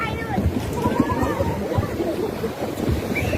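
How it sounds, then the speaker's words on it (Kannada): Big sea waves roll in at Murudeshwar beach in a steady, full wash of surf mixed with wind buffeting the microphone, and voices talk over it. "ಇಷ್ಟು ದೊಡ್ಡ ದೊಡ್ಡ ಅಲೆ ಬಂದಾಗ ಡೌನ್ ಆಗುತ್ತೆ"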